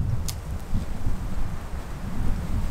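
Steady wind buffeting the microphone outdoors on a cold autumn camping and fishing trip, a low rumbling roar with gusty swells throughout, no voices.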